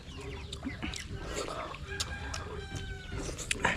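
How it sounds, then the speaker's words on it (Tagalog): Chickens cluck and a rooster crows amid farmyard noise, with people talking nearby at moderate loudness. "Manok na yan, di yan titigil sa kain."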